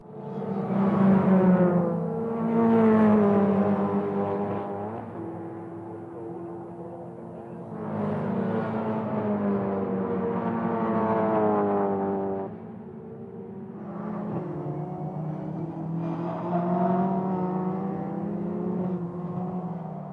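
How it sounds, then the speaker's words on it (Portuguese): Caterham Super Seven race cars, including a more powerful 420R, race at the Jarama circuit, their engines droning loudly and steadily with rising and falling pitch as they accelerate and pass in waves, with no talk. "Paulo Macedo procurava romper com o mais potente 420R por entre os carros de Pedro Falé, Pedro Lacerda e Francisco Figueiredo"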